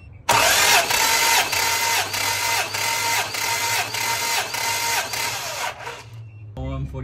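Toyota Land Cruiser engine cranking over on the starter during a compression test, a loud steady rhythmic churn of about six seconds that stops abruptly, with a brief clatter after.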